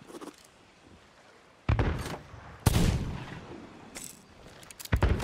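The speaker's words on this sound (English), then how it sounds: "Is that you shooting?" Heavy gunfire and cannon blasts in the pirate video game Sea of Thieves: several loud, sharp booms arriving irregularly, each with a rumbling tail, over a quiet background.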